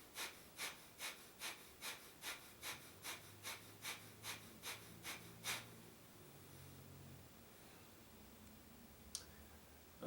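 Rapid, rhythmic pumping exhalations of a breath of fire yoga breathing exercise, about a dozen sharp nasal bursts at an even quick pace, close and clear, then trailing into quiet breathing.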